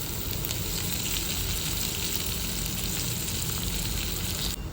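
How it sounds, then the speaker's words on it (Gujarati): Chopped green onion with turmeric sizzles steadily in hot oil in a pan, a continuous close frying hiss while making a vagharela bajra rotlo. "અહીં લીલી ડુંગળી સરસ રીતે ચતળાવા લાગી છે"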